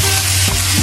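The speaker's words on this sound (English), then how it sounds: "And now you're going to stir fry it." Chicken seasoned with paprika, pepper and salt is stir fried in a pan, a loud close sizzle with a scrape of stirring, brief and continuous.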